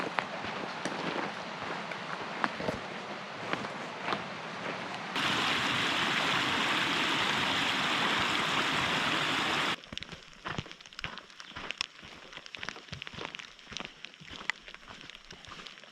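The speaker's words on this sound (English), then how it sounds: "it's raining pretty well, and it's coming down consistently" Steady rain pouring down on a backpacking trail along Warm Springs Creek in Idaho's White Cloud mountains, a dense continuous hiss that surges loud in the middle stretch, with brief louder patches of pattering and rustling around it.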